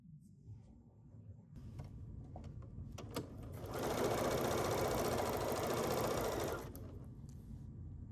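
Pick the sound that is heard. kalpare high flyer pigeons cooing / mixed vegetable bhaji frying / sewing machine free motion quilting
sewing machine free motion quilting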